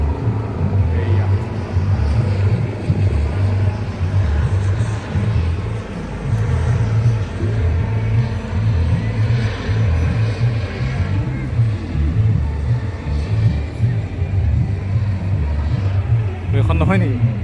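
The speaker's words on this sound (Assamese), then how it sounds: "এয়া মামা পাই গ'লহি, হেলিকপ্টাৰ আহি গ'ল" A helicopter coming in to land at a chief minister's visit in Namti makes a continuous low rumbling drone, loud and steady throughout, while people talk nearby.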